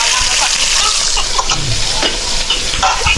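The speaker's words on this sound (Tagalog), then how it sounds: "nagluluto yung asawa ko ng ulam" Home cooking of an evening dish fried in a pan, a steady loud sizzle with stirring and spatter throughout, while a person speaks nearby.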